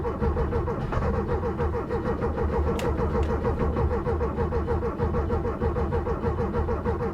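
A flooded Porsche 996 engine cranks continuously without catching, a loud, close, rhythmic churning of the starter that never turns into a running idle.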